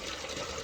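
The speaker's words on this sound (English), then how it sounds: "This is a spring, guys. Natural spring, fresh water" Natural mountain spring of fresh water trickling and gurgling steadily, close by, a continuous soft wash with no voices.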